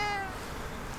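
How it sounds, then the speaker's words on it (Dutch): A kitten gives a single drawn-out meow, close and fairly soft, with no voices over it. "Een katje en ze heeft haar eigen huisje."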